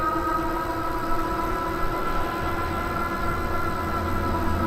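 A Velotric Discover 2 commuter e-bike climbs a medium hill on throttle alone, its motor giving a steady, even whine over a continuous low rumble of road and wind, with no talking.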